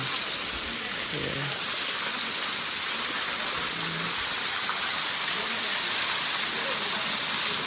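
A waterfall near Vasota lake gives a constant, even rushing hiss, with faint voices now and then underneath.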